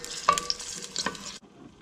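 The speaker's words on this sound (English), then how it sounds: "And just let them brown all over the olive oil." Serrano peppers browning in olive oil in a pan for chile relleno, a close frying sizzle with a few stirring scrapes that stops abruptly partway through, leaving quiet room tone.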